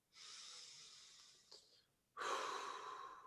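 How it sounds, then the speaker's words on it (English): Two slow, airy breaths drawn in close to the microphone, each long and soft, separated by a short pause, with no talk over them. "take a nice deep breath in"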